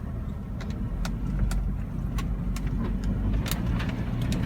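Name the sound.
Suzuki Carry mini truck driving in 4-wheel drive through mud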